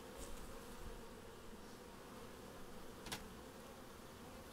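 Honeybees hum in a steady, faint drone around a beehive, with a brief louder pass of a bee close by midway; no voices.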